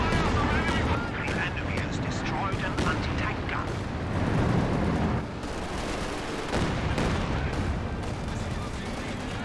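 Calliope rocket barrage in the strategy game Company of Heroes 2, a dense rumbling roar of blasts and rapid gunfire filling the whole stretch, with game voice lines layered over it.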